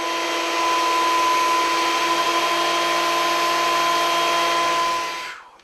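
A thickness planer surfaces wood veneer stock in a home shop, a loud steady whine with a strong tonal hum running unbroken for about five seconds before spinning down at the end.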